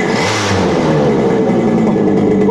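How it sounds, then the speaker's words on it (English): A Yamaha RD50dx moped engine fitted with an HPI 2Ten ignition revs loudly and close, its two-stroke buzz climbing and holding through a quick throttle blip. "Check out this throttle response."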